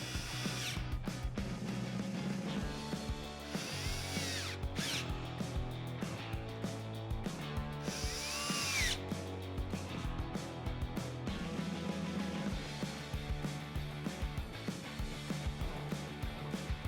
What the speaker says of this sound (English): go ahead and tighten them down with your T30 Torx bit